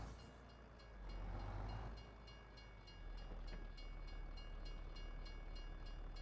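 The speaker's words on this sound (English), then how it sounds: "Hey, we can see the train go by." A short train in Farming Simulator 22 rolls past, a steady low rumble that swells and then holds, with rhythmic wheel clicks over the rails.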